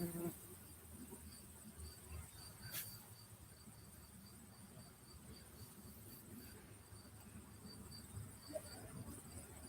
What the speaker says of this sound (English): These little bees, like baby bees, are just swarming around.